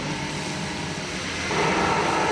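An old carpet-wringing machine spinning down after being switched off, a steady mechanical whir and rumble that shifts in tone partway through.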